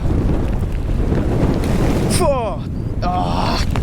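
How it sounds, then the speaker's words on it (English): Strong wind buffets a microphone outdoors near open water, with a broadband roar lasting the whole stretch. Someone speaks briefly over it near the end. "this wind is getting serious"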